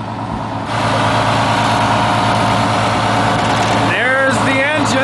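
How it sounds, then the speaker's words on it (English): A 1953 GM transit bus with a Detroit Diesel 6-71 two-stroke six-cylinder engine idles with a steady, loud low rumble, and a beeping tone cuts in near the end. "There's the engine. Denver Motors diesel, which became Detroit diesel."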